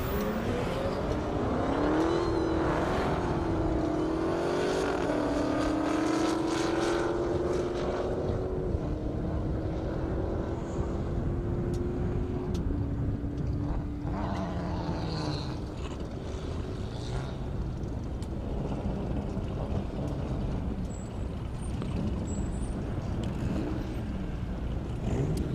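Drag race cars, an Audi and an Infiniti G35, accelerate hard down an airport runway strip, steady loud engine roar with rising gear pulls and shifts throughout, continuous and close.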